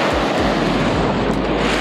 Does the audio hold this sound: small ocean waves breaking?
yes